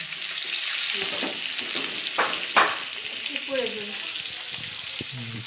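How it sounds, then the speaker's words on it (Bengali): Fish (datina) frying in hot oil in a home kitchen, a steady broad sizzle throughout with a few sharper crackles and clinks of a utensil, close and moderately loud with no speech. "মাছ তেলে দেওয়া হয়ে গেছে, এখন ভেজে নিতে হবে।"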